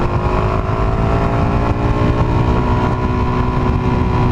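A Suzuki DRZ400 SM motorcycle engine drones steadily in fourth gear at moderate speed, a loud, close, constant hum with buffeting wind and no speech.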